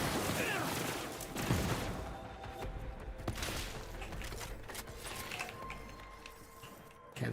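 Gunfire in the Borderlands 4 video game, bursts of shots and clattering weapon mechanics under a dense layer of game sound, moderately loud.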